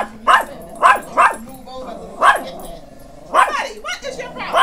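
A dog barks in short, loud bursts, about six sharp barks spaced irregularly, with a few yips and whimpers between them, while people talk nearby.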